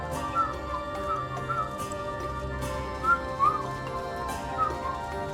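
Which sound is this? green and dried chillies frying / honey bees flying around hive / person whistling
person whistling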